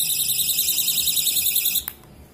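Cheap electronic bicycle bell, under ₹200, held down so its speaker gives a loud, steady, shrill electronic tone that cuts off near the end, leaving a brief click and quiet room noise.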